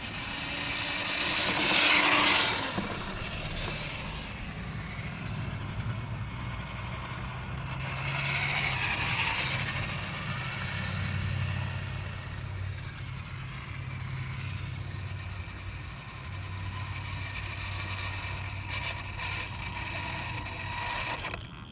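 A CEN Racing Ford F450 dually RC truck on its stock gearing runs outdoors, its motor whining up in two short surges and then settling into a faint steady hum, with no talk.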